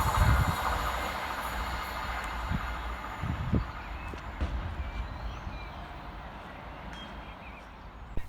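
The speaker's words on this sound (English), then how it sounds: "we see the passing through of 390 138, working 1 Mike 18 to Avanti West Coast of Glasgow Central through to London Euston" An Avanti West Coast Class 390 train runs through Uddingston station without stopping, giving a low, steady rumble with a few sharp knocks near the start, fairly quiet and slowly easing away.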